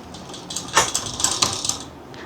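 Short burst of home sewing machine stitching with clicky mechanical ratcheting, a back-and-forth run locking the stitch at a seam's end; close and moderately loud, with no talking.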